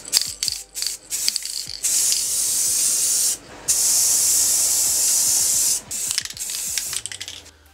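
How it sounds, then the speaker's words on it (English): Krylon spray paint hissing from an aerosol can in two long, steady bursts of about a second and a half each, preceded by short sputtering puffs and followed by a few brief taps, close and loud with no talking. "I'm going to give this Krylon a try and see if I get better results."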